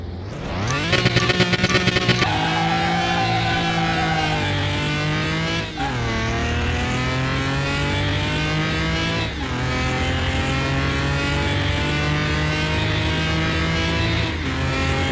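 A 426 Hemi Roadrunner races in Car Mechanic Simulator 2021, its V8 roaring close and loud as it launches and climbs through the gears. Each upshift is followed by a rising whine, and no one talks over it.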